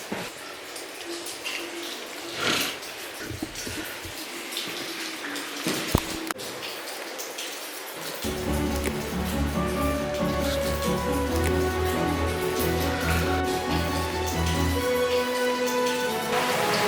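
Water drips from the ceiling inside a dark cave near Sohra, India, as scattered taps and a steady patter echo close by, thickening into a denser rain-like wash over a low rumble, with no talking.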